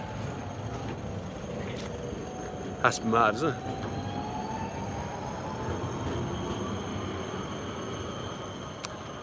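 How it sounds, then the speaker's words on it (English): A tram rolls along a Prague street with a steady rumble of wheels on rails and a faint rising squeal, while a person speaks briefly over it. "Here's a tram with Jameson whiskey written on it."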